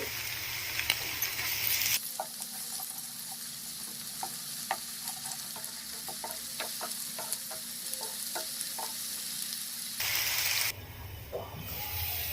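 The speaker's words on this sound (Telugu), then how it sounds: "అల్లం వెల్లిగడ్డ పేస్ట్ అనేది పచ్చివాసం పోయేంత వరకు మంచిగా ఫ్రై చేసుకోవాలి" Ginger garlic paste fries in a pan for a cauliflower tomato curry, a steady close sizzle and hiss with scattered pops and crackles, alone without talking.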